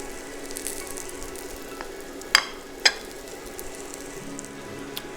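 Plant-based burgers topped with cheese fry in a pan with a soft, steady sizzle, broken by two sharp spatula taps near the middle.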